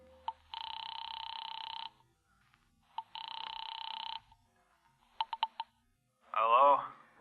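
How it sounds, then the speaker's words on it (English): A telephone rings in a radio drama, two long electronic ring bursts followed by a quick run of short tones, then a brief voice at the end, all heard clearly against a quiet background. "I picked up the phone to call a bookie joint"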